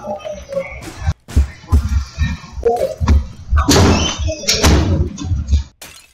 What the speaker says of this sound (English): I just locked my door